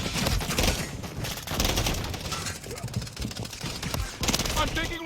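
Rapid automatic gunfire crackles steadily in a Call of Duty: Modern Warfare III match, close bursts that swell and ease over a constant din of shots.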